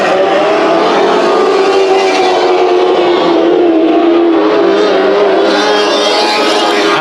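Race cars in a heat race at Bakersfield Speedway, engines roaring loud and continuous as the pack battles across the finish line, pitch rising and falling as cars pass close by.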